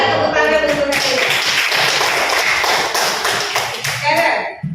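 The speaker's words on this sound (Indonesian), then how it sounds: "tepuk tangan untuk Hanifah" A classroom of students clapping for a classmate, a short burst of brisk, close hand claps that rises quickly, holds steady and trails off.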